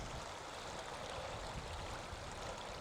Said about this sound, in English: Okay, so we've got a bit of a river crossing.